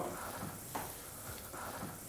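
A spoonful of butter sizzles in a hot frying pan with a faint, steady hiss and soft crackle throughout, heard quietly from nearby.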